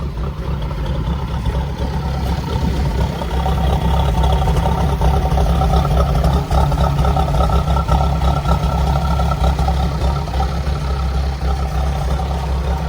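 The engine of a 2020 Mahindra ROXOR runs steadily up close, a constant mid-pitched idle rumble with a faint rise in intensity partway through and no talking.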